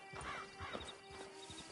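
In a PS4 video game, horse hooves clip-clop in a quick rhythm and a horse whinnies briefly, all faint and close.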